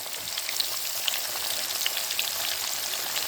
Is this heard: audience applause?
no